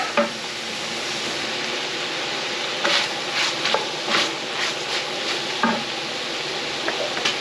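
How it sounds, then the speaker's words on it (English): Breakfast sausage and mirepoix sizzle steadily in a frying pan for Thanksgiving cooking, with a constant hiss and a few brief scrapes of stirring. "I want to get this mirepoix in there to simmer with that fat"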